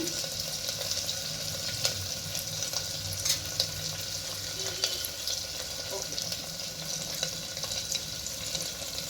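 Chopped onions and curry leaves frying in a pan while making a rajma curry, a steady close sizzle with occasional stirring clinks and scrapes running throughout.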